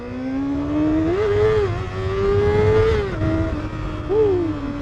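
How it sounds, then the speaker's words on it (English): High-revving 1990s sportbike engine screams close by, pitch climbing and dropping through several quick rises and shifts on a wet road. "But the bike is a baby screamer."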